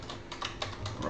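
Computer keys pressed in a short series of light clicks while setting up an emulator launcher, with someone talking quietly over them.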